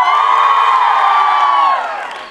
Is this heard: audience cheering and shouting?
yes